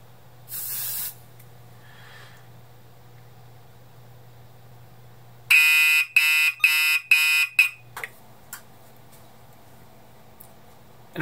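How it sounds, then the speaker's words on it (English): A Radionics D7412G fire alarm panel sounds during a smoke detector walk test: a loud, piercing tonal alarm pulses in about five rapid bursts after a short earlier spray-like hiss, set against a steady low electrical hum. "So let's start with the smoke detector."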